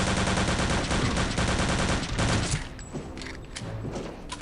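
Gunfire in Return to Castle Wolfenstein, a rapid run of loud automatic shots that fills the first half, then thins into scattered bursts and thuds with some game sounds, no talk.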